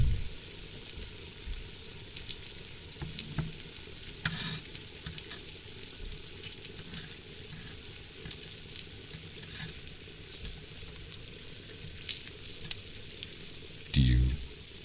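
Food fries in a pan with a steady crackling sizzle throughout, punctuated by occasional scraping stirs and clinks of a utensil, and a louder scrape near the end.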